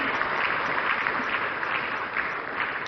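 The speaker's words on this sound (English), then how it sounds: "Another round of applause, ladies and gentlemen." Sustained applause from the audience at the opening of Ghana's National Economic Dialogue 2025, a steady, even roar of clapping heard at a distance, slightly muffled, with no break.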